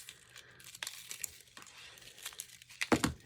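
Thin paper-covered wire is cut for a handmade journal cover. Quiet crinkling and handling lead up to one sharper, louder snip near the end.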